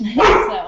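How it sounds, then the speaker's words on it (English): A dog gives a single short bark close by, cutting in over a person talking indoors. "Oh, that's my dog."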